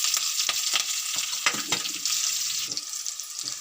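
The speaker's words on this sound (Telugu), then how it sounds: "ఇప్పుడు ఉల్లిపాయలును పచ్చిమిరపకాయ ముక్కలు కొద్దిగా మిగిల్చుకున్నాం కదండి, అవి కూడా వేసేసి ఇందులో వేయించుకుందాం" Onions and green chillies frying in hot tempering oil for a moong dal dish with drumstick leaves, a loud, continuous close-up sizzle with a few crackling pops and stirring scrapes.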